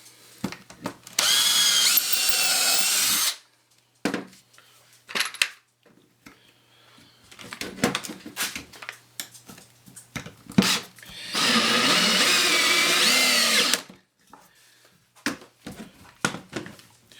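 Drill driving a screw into a wooden step stool, two loud sustained bursts of motor whine up close separated by quieter clatter and handling noises.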